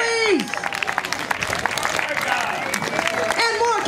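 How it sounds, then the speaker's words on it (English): Audience applause and cheering at an outdoor comedy show as a comedian takes the stage, a dense sustained roar of clapping with a voice talking over the start and end. "Applause today,"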